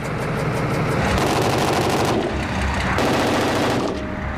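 A tank turret gun fires during cavalry gunnery training, rapid bursts of loud, close machine-gun fire rattling almost continuously over a running engine rumble.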